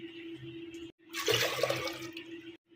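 Water is poured into dal in a cooker for a traditional Khandeshi dal bati, a short splashing gush of about a second and a half in the middle, with quiet background hum before and after.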